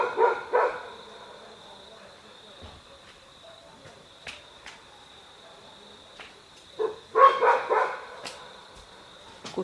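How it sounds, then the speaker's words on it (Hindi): Dogs barking from one side of a forest at night, scattered barks of varying loudness, some in quick clusters, over a constant cricket drone. "कुत्ते तो उस साइड से भौंक रहे हैं"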